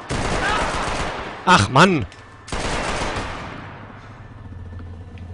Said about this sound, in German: Wo schießt er denn jetzt hin?